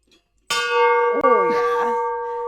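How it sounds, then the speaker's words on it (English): A real ship's bell used as a personal-record bell at a race finish rings loudly with a bright, sustained metallic tone, struck once and then again about halfway through, each strike ringing on with long overtones. "It's an actual ship's bell, so it's meant to be heard like from a ship"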